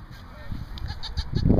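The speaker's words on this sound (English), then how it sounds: "A little baby goat." A baby goat on a working farm gives short, faint bleats amid outdoor ambience and a nearby speaking voice, with a louder cry near the end.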